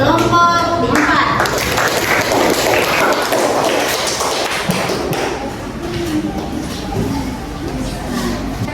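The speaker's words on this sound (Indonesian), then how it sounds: "beri aplaus untuk kelompok 4" Classroom audience applauding a presenting student group, a dense wash of many hands clapping loudly and steadily, slowly easing off toward the end.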